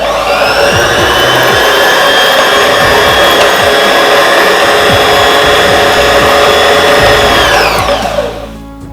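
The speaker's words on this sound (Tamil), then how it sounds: "இப்போ நான் இதை ப்ரெஸ் பண்ணுறேன். அப்போ பாபின் எப்படி வைண்ட் ஆகுது அப்படின்றத நம்ம பார்க்கலாம்." A Singer Start 1306 sewing machine winds a bobbin with a loud, steady mechanical whir and rhythmic clatter that runs close up before winding down and stopping near the end.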